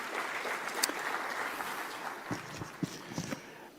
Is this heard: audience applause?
yes